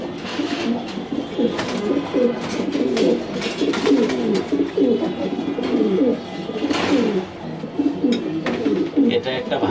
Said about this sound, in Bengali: এটা একটা ভাইয়ের কবুতর